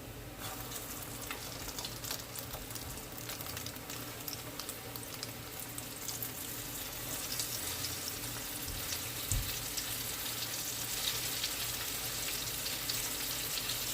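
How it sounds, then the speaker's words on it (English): Flour-coated shrimp sizzle steadily in a hot frying pan, a continuous crackling hiss with occasional pops and a brief clink near the end. "Drop it in your frying pan."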